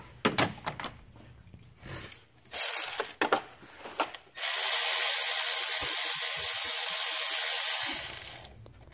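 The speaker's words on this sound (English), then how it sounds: "now I'm just going to use the electric ratchet to take them all out." An electric ratchet removes bolts on a BMW X5 35d during a Fluidampr damper install, giving short bursts of whirring and clicking followed by a longer, steady, loud run close by, with no talking.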